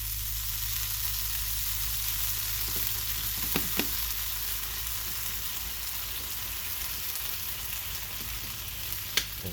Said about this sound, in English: I just have the squeeze garlic, so I'm just going to throw some of that right on the grill.